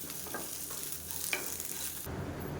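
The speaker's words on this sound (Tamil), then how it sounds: "இதையும் சேர்த்து நல்லா முழு வறுத்துக்கலாம்" Curry leaves and shallots frying in a pan while being stirred, a continuous bright sizzle with scraping stir strokes, loud and close, dropping off abruptly near the end.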